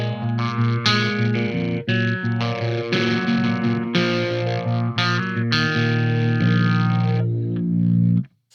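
Electric guitar played through a Phase 90 phaser pedal with distortion, loud sustained chords and riffs sweeping in a swirling phased tone, ringing out alone before cutting off at the end.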